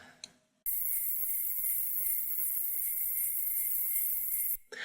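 A recorded gyroscope sample from a music track: a steady, loud whirring hum with a bright high whine that runs evenly for several seconds, then cuts off sharply.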